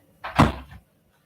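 A single door swings shut with a short, muffled thump and rattle, close and moderately loud, then silence.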